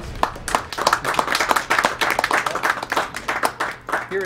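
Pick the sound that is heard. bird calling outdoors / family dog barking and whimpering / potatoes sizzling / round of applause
round of applause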